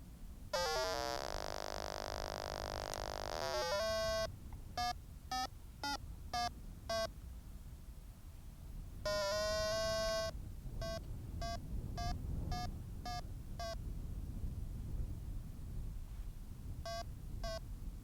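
A variometer alarm on a Multiplex Lentus 3000mm RC glider sounds a long buzzing tone, then a run of rapid short beeps in bursts over a steady engine-like rumble.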